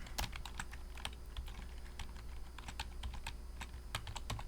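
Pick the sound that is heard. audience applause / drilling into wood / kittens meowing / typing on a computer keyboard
typing on a computer keyboard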